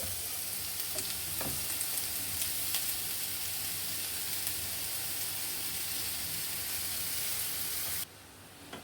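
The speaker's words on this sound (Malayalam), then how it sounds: "അപ്പം നമ്മൾ ഇനി ക്യാരറ്റാണ് ഇട്ട് കൊടുക്കുന്നത്." Grated carrot fries in a pan for carrot halwa, producing a steady, dense sizzle with a few stirring knocks, then cutting to quieter sizzling near the end.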